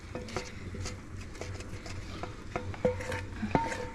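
Bacon and its rendered fat are stirred into a carbonara mixture with a spoon, giving quiet, irregular wet scraping and clicking close by, with no voice over it.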